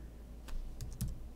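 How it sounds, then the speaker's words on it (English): A few sparse, close keystrokes click on a computer keyboard during mapping work in Illustrator, with quiet pauses between taps and no talking. "I'm just typing on here for your benefit."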